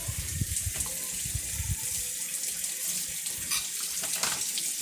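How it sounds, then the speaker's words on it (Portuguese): A kitchen tap runs steadily into a sink during dishwashing, a continuous close hiss of flowing water with faint low knocks of dishes early on and no talking. "Lavando louça."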